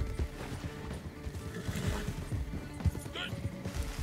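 A horse in the Red Dead Online video game, heard as quick hoofbeats with a snort or whinny over a busy game soundscape, while someone talks over it.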